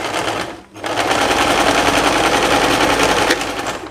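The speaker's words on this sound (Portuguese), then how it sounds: "aqui eu vou costurar a parte do ombro" A sewing machine stitches the shoulder seam of a loose summer dress, running loud and steady up close after a brief stop near the start, with no talk.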